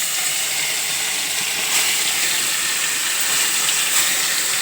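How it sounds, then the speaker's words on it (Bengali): Fish frying in hot oil in a kadai makes a steady, close, dense sizzle with a few slight surges and no voices. "এদিকে কড়াতে মাছ ভাজা হচ্ছে"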